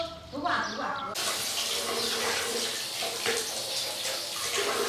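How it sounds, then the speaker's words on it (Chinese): Vegetables being washed under a running tap in a home kitchen, a steady close rush of water that starts abruptly after a moment and runs continuously, with people talking faintly beneath it. "我把菜给它洗干净。"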